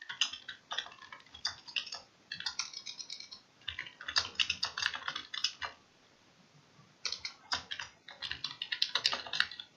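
Typing on a computer keyboard, with quick irregular clusters of crisp key clicks separated by short pauses, close and clear with no talk.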